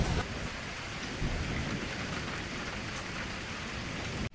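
Heavy rain pours steadily in a Meghalaya jungle during a thunderstorm, a dense continuous roar with thunder rumbling underneath, loud and close throughout with no talking.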